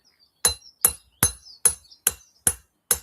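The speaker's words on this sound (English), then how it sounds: "I'm going to put a chamfer on one edge." Seven evenly spaced hammer blows ring out on an axe at the forge as a chamfer is put on one edge, each a sharp metallic strike with a brief clanging ring, close and loud with no talk.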